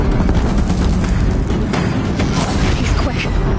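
Bridge in Horizon Zero Dawn collapsing under sustained Deathbringer machine fire: a continuous dense roar of booms and rapid gunfire, loud and close, with a voice talking over it.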